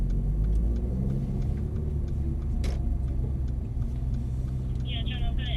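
Mercedes-AMG A45 driving on a track, heard from inside as a steady low engine and road rumble running throughout, with a brief sharp click midway and a faint high squeal near the end.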